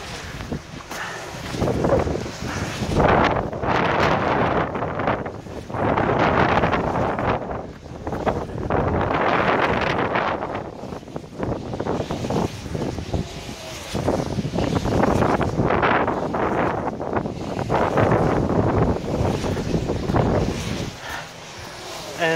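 Steady wind blowing across an open wind farm among dozens of turbines, a continuous broadband rush with gusty swells and microphone buffeting throughout, loud and close.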